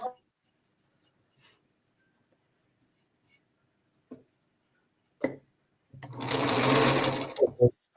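A sewing machine runs in a short burst of about two seconds, a loud close whirring buzz preceded by scattered clicks and handling knocks, with no talk over it.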